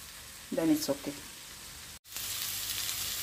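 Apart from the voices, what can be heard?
vegetables frying in a pan for fried rice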